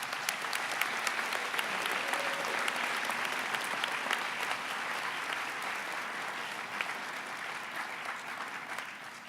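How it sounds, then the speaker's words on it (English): Graduates clap for loved ones in the audience at a graduation ceremony, a dense, even wash of applause that stays fairly distant and slowly tapers near the end. "If I can ask the graduates to give a round of applause to all of their loved ones in the audience."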